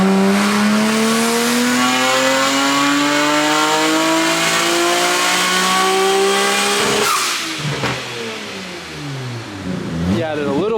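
Nissan R34 GT-R turbocharged engine revving hard on a dyno, a loud rising harmonic wail for about seven seconds before cutting off, then shorter revs and decel crackle follow, with people talking over it.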